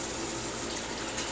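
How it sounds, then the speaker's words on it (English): Cool water from a tap running and splashing, a continuous close wash of water without talk. "So I'm going to do cool water on the face."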